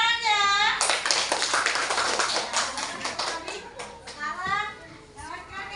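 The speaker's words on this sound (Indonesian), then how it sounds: "Beri tepuk tangan ya." A class of children clapping together in a classroom, a dense burst of applause running several seconds between short bits of children's voices at the start and end.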